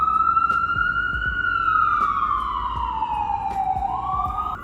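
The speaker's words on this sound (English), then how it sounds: "Let's wait for the sirens to pass." An emergency siren wails continuously on a New York City street after a storm, its pitch sliding slowly downward as the vehicle passes, with faint road noise beneath.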